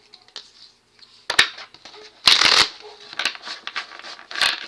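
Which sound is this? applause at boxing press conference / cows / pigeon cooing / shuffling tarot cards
shuffling tarot cards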